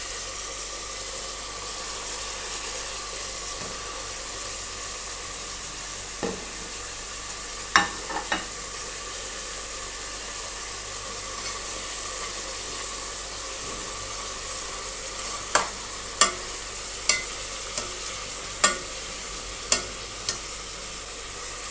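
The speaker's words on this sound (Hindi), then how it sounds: "मैं इसको लहसुन अदरक के साथ भी 1-2 मिनट भूनूंगी गोश्त को" Mutton pieces frying with garlic, ginger and spices in a pot, a steady low sizzle with occasional clinks and scrapes of stirring, no voices.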